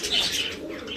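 A pair of pigeons cooing close by, soft throaty coos over a steady airy background hiss, with no talking.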